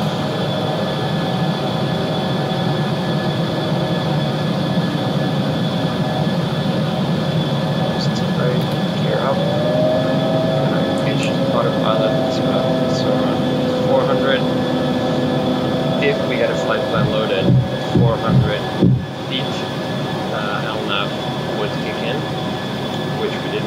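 An Embraer E190 rolls down the runway in a flight simulator game, a steady droning engine hum with whining tones running beneath continuous cockpit talk.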